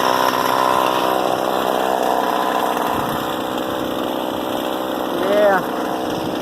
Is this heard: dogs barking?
no